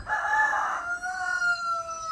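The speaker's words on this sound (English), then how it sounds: "The roosters just won't stop." A rooster crows nearby in a clear, drawn-out call, answered by another crow that trails off over a quiet farmyard backdrop.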